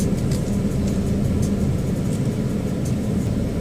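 A steady, close engine rumble from a car gently reversing into a parking space with a light touch of gas during a driving test in Truro, Nova Scotia, holding an even, low drone throughout.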